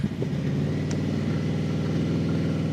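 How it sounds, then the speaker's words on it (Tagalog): QJMotor SRV 600V motorcycle with a V4 engine idling after warming up, a steady, close, throbbing low rumble with a brief blip of throttle at the start, no talking. "V4 engine, ganyan ang tunog niya."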